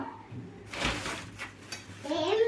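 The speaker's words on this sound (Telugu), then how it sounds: "ఇట్లా బాగా కలుపుకోవాలండి ఉండలు ఏమి లేకుండా బాగా కలుపుకోవాలి" Urad dal vada batter is mixed by hand in a bowl, with soft wet squelching and a few clinks against the vessel, while someone speaks over the stirring.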